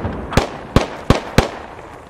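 Four sharp, loud blasts from a grenade in a military shooter video game crack out in quick, evenly spaced succession, each a brief burst that dies away fast, with no talking.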